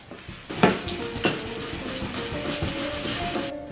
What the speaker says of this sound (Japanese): 少しずつ砂糖を入れながらかき混ぜていきます。